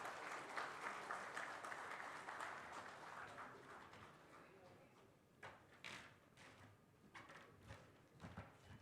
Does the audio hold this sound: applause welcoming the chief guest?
yes